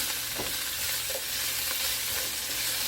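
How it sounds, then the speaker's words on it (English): Vegetables for Mexican chicken soup being stirred in a pot, an even, close frying hiss with a few soft scraping strokes, steady and uninterrupted, without any talking. "Now we can keep stirring this up."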